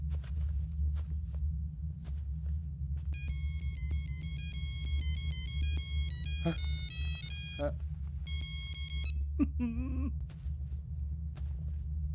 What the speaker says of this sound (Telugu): Ring tone sir. Ring tone.